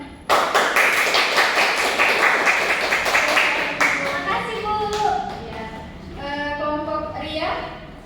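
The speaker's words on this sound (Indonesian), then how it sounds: "Coba kasih tepuk tangan." Applause in a classroom, a burst of many hands clapping close together that gradually thins out, with students' voices chattering over the fading claps.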